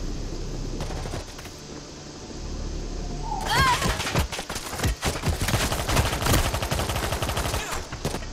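Gunfire in the World War Z video game starts after a few calm seconds, then loud rapid automatic bursts stack up and keep going almost without a break.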